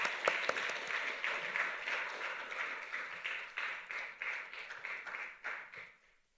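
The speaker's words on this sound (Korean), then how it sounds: "우리 뜨거운 박수로 우리 정순복 권사님을 모시겠습니다" Korean church congregation giving warm applause to welcome a deaconess, crisp clapping that rises at once, then gradually thins and fades away to quiet by the end.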